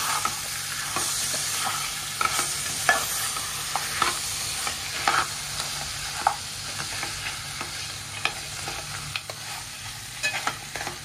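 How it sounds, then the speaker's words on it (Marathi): Ground masala paste stirred into small crabs frying in oil in a pan for an Aagri chimbori curry, with a constant sizzle under repeated close spatula scrapes and knocks against the pan, no speech. "ते वाटण घालूया. वाटण मिक्स करू पूर्ण."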